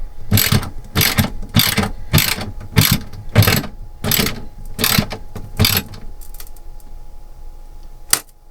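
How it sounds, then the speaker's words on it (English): A ratchet tightens bolts on a caravan TV bracket shelf in a 2010 Bailey Pegasus 462. Nine loud, close clicking bursts come in quick succession, then a pause and one sharp final click. "Tighten them all until I hear it starts to crack a little bit as the shelf starts to tighten."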